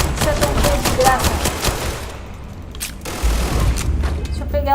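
Rapid gunfire in the video game Starfield: loud bursts of sharp shots in quick succession, a brief pause, then another volley with booming impacts, up close and without talk.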